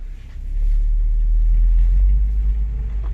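Audi S5 driving, a steady deep engine rumble and road drone building up within the first half second and holding close and loud throughout, with no talking.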